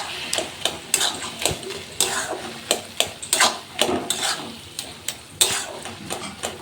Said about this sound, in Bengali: এরপর ভেজে রাখা চিংড়ি মাছগুলো দিয়ে দিলাম। দেওয়ার পর নাড়াচাড়া করে নেব।